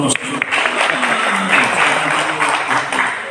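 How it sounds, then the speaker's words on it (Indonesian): Audience applause at an Indonesian gathering, a steady wash of clapping that fills the room for a few seconds, with some voices and cheering mixed in. "Tepuk tangan dong Solomo."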